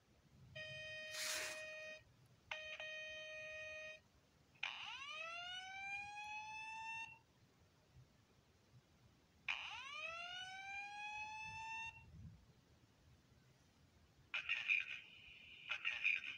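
A System Sensor SpSW fire alarm speaker strobe at its loudest volume cycles through electronic alert tones: steady pulsed beeps, rising swept whoops repeated twice, and a final warbling blast, each burst separated by short gaps.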